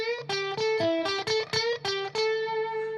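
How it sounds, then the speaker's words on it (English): A Stratocaster electric guitar with overdrive, played on the center pickup with the tone controls fully up, rings out a run of bright, sustained distorted notes and chords, each struck cleanly and fading in a final held chord. "We'll give it a little overdrive."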